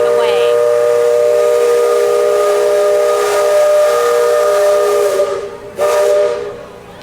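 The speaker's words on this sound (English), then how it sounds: "that's where the whistle gets blown from our cast member here to let them know we are coming" The steam whistle of the Liberty Belle Riverboat at Disney blows a loud, close, sustained blast for about five seconds, breaks briefly, then sounds a short second burst before fading out.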